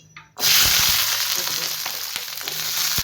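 Small shallots hitting hot coconut oil for village-style mutton curry, a sudden loud hiss that erupts after a brief quiet start and holds as a dense, close sizzle with a few crackles.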